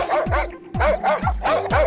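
A dog barks repeatedly in quick, sharp, loud yelps, about five barks in two seconds, close by, with no talking over it.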